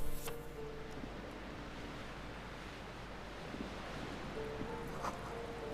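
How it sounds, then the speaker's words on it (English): Ocean waves crash and wash in darkness in the game Disco Elysium, a steady roaring surf with wind noise, continuous and fairly loud throughout with no speech. "Waves crashing in the darkness."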